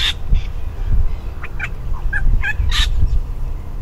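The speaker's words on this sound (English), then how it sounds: "This one sounded like a little wattle bird." Song of a regent honeyeater copying a little wattlebird: a few harsh, scratchy raspy notes and short higher chirps in an irregular sequence, fairly close over a low background rumble.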